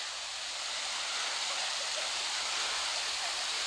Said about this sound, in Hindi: अब मैं आपको दिखाता हूँ वाटरफॉल का वो खूबसूरत सा नज़ारा जहाँ पर लोग आने के लिए बेताब रहते हैं